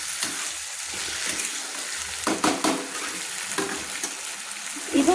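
Spice paste sizzling and frying in a pan while cooking fish curry, a soft continuous crackle with occasional louder stirring scrapes and clinks, no voices.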